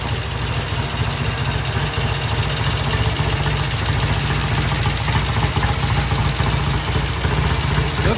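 A 1968 BSA A65 motorcycle engine idles steadily around 900 RPM, a continuous close, even mechanical throb with constant loudness throughout and no talking.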